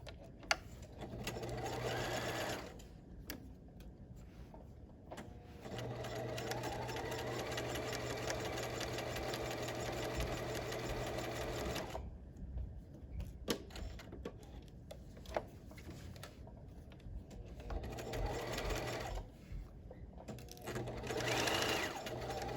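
A sewing machine stitches an apron pocket in several steady bursts of rapid ticking, broken by short pauses for pivots. It sounds close and moderately loud, with no talk over it.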